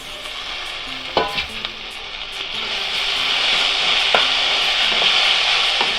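Tomatoes fry in a pan for Udupi-style crab sukka, giving a bright, steady sizzle that swells gradually, with a few sharp clanks of a stirring spoon early on.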